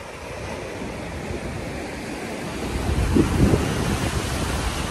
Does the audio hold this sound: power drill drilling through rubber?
no